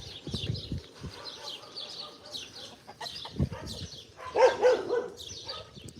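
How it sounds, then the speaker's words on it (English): Dogs bark in short bursts somewhere off in a backyard garden, with roosters or chickens clucking and crowing around them. The calls come irregularly, moderately distant and fairly faint, and no one is talking. "Dogs."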